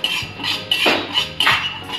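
Sorghum flour roasting in a pan, stirred with a metal utensil that scrapes and knocks against the pan in three or four distinct strokes, close and clear, with no talk.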